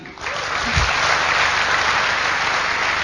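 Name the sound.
audience applause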